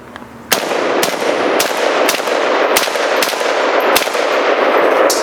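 An AK rifle fires about nine sharp, evenly spaced gunshots outdoors near hay, each crack loud and close over a steady background hiss.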